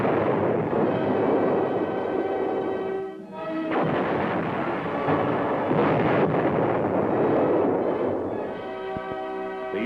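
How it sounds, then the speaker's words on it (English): A 165mm cannon on an M-60 tank fires during combat exercises, giving heavy booming blasts with a rough, rolling rumble and a brief lull between shots, loud and near. "A 165mm cannon designed to fire at short ranges with extreme accuracy can be used for demolition work."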